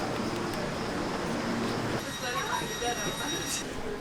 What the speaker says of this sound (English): The 10:30 train came